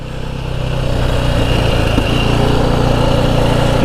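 Motorcycle engine held in third gear while the bike rides a wheelie, a steady loud drone that swells slightly after the first second and holds at full volume throughout, no voices.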